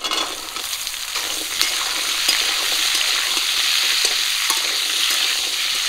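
Washed vegetable stems and potato frying in a pan with onion, panch phoron and green chilli, a loud continuous hissing sizzle with some stirring.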